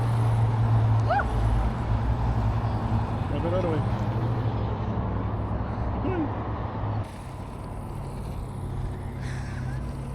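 An Arrma Typhon Grom RC car runs at full throttle doing repeated donuts, its motor whine continuous and fairly loud, with people talking over it throughout.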